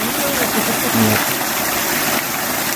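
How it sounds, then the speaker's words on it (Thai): Water gushing steadily from the 3-inch outlet of a 5 hp solar-powered pump, a continuous loud rush with someone talking over it. "นี่น้ำไหลดีมากนะครับนี่"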